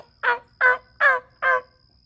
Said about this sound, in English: And there will be turkeys.